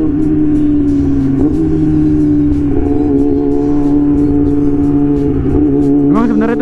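Yamaha R6 sport motorcycle fitted with an autoblipper, its engine revving loudly and close with a steady high-pitched howl, interrupted by quick throttle blips and a sharp rise in revs near the end.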